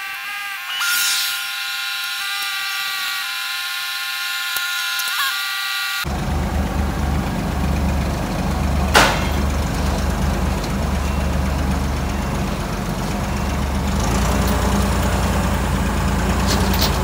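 A Massey Ferguson tractor engine idles close by with a steady, low rumbling chug that runs on after a quieter stretch with a thin high whine.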